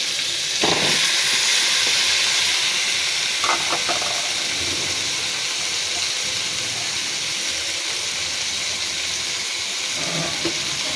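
Tengra and koi fish fry in a hot pan as chopped ginger, garlic, onion and tomato are added together, giving a loud, unbroken sizzle and hiss with a few brief clinks of utensils.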